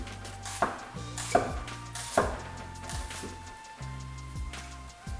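Knife slicing an onion on a cutting board with a rocking motion, four or five crisp taps against the board at an unhurried pace, close up, over a low background hum.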